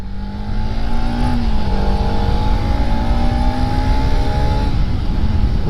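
A modified Bajaj Pulsar RS200 motorcycle engine revs loudly and close. Its pitch climbs and then holds a strong, steady drone for several seconds, with no voices.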